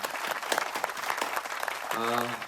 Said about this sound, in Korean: 우리의 예배를 받아주신 하나님께 영광의 박수를 올려드립시다